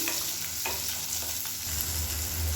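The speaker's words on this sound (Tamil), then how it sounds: "இப்போ வெங்காயம் நல்லா வதங்கிடுச்சு." Shallots frying with fennel and cumin seeds in a pan over a medium flame for kara kuzhambu, a close continuous sizzle with a few stirring scrapes, no talk.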